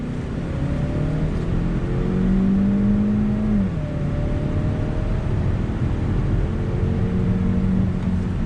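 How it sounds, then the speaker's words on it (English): A 2019 Hyundai Sonata Limited Turbo with an 8-speed automatic accelerates under throttle, its engine note climbing in pitch, then dropping at a shift and rising again, heard from inside the car as a steady whir without talk. "The shifts could be a little bit quicker, but it is a traditional 8-speed automatic."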